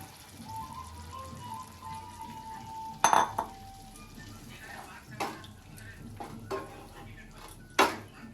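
A gravy paste for crispy baby corn fries softly in a pan, with a low sizzle broken by a few sharp clinks of a utensil against the pan.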